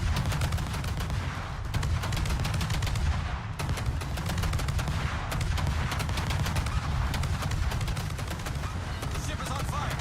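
Ship guns in World of Warships firing in steady, rapid succession, a loud and dense barrage that keeps going with only brief dips, with a voice talking over the shots.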